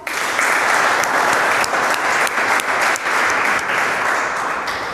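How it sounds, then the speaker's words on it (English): Students in a math classroom break into steady, dense applause for a classmate, with many hands clapping continuously and close by for several seconds at an even loudness. "Please clap for Nikita."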